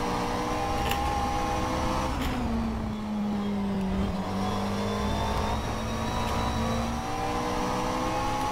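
A McLaren 720S GT3 race car in rFactor 2, its engine droning loud and close as the pitch drops through a lift and brake, then climbs again under throttle.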